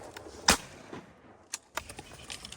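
Shotgun blasts during a Central Texas duck hunt: one sharp, loud report followed by two fainter shots about a second apart, crisp and close outdoors with no voices.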